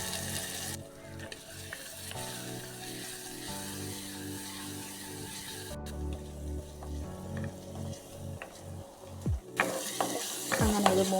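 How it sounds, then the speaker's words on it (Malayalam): Mustard seeds pop and crushed spices fry in hot oil for tomato rasam, a steady sizzle scattered with crackles and stirring scrapes, growing livelier toward the end. "കടുക് പൊട്ടി വന്ന് നമുക്ക് ഇതിലേക്ക് ചതച്ച് വെച്ചിരിക്കുന്ന സാധനങ്ങൾ ചേർത്ത് കൊടുക്കാം."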